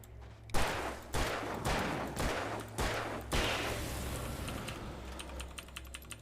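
Gunfire in the video game Alan Wake: five sharp, loud shots at a steady pace, each with a short rumbling tail, then a quieter stretch of ambient game noise.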